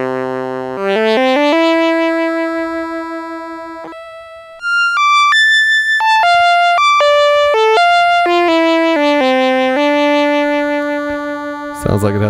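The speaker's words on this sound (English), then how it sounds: "Sounds like it has an envelope on the filter and also LFO. Some sort of raspy pulse." An ARP Pro DGX synthesizer playing a raspy pulse preset, a loud melodic run of stepped, sustained notes with bright, buzzy overtones, rising and falling in pitch with a brief gap partway through.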